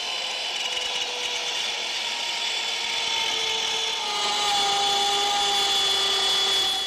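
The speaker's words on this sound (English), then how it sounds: "Now we've got our fence, we've got our router, we've got it tilted at the angle," A tilted power router cuts an angled groove in wood against a fence, giving a steady, loud, sustained whine with a slight rise in pitch partway through, with no voices over it.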